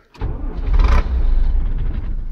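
A Mercedes-Benz MB-trac 1300 tractor engine cranks and catches at close range in a field, then settles into a steady, loud rumbling idle.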